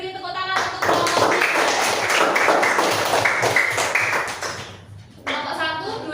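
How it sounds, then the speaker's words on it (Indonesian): Primary school class of fourth graders claps for a student group, a loud burst of dense hand clapping for about four seconds, then a pause and a teacher talking. "beri tepuk tangan untuk kelompok"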